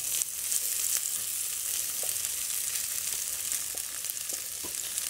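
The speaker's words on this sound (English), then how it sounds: "So we should hear a nice sizzle." Steady broadband sizzling of food frying in a hot pan, continuous and fairly close, with a few faint clicks and pops scattered through.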